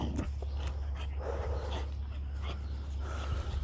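A puppy whimpers, pants and gives soft yips close by over a low steady hum, with faint human sounds in the background.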